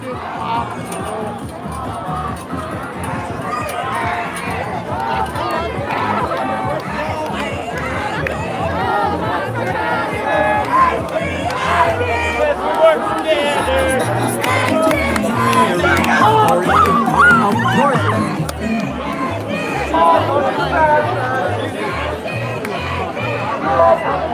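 A dense crowd at a pro-police Trump rally in Seaside, Oregon, with continuous overlapping chatter and babble all around, heard from within the crowd as it is walked through at steady loudness.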